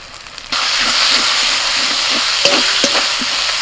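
Ginger, cumin, coriander and dried chilli pastes fry with onions for mutton, a loud steady sizzle that jumps up suddenly as the pastes hit the oil, with faint stirring scrapes and no talk.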